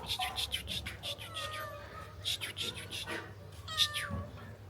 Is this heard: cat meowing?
yes